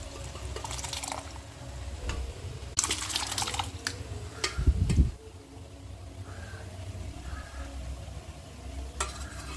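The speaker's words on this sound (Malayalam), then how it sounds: "പരിപ്പ് ഒഴിച്ചു കൊടുക്കാം." Cooked toor dal, still loose with its cooking liquid, is poured into a hot pan, giving soft liquid sloshing and sizzling with a few scraping and clattering bursts and a brief louder splash midway.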